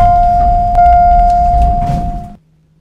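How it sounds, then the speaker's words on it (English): A single bright bell tone rings out in a Roblox elevator, a sustained chime with a clean ring that fades after about two seconds over a soft background hum. "Let's ring the bell"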